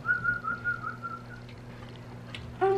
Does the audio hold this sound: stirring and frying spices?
no